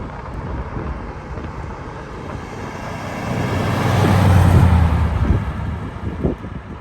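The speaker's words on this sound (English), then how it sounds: "Getting a little bit of wind here." Wind buffets the microphone outdoors as a steady, low, rumbling roar that swells toward the middle and then eases off. No one speaks.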